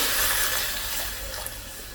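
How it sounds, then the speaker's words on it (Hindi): Water pours steadily into a pan holding rosemary and onion peels, a broad continuous splashing rush that eases slightly toward the end, with no talking. "आप लोगों के सामने 1 कप मैंने पानी का ऐड किया"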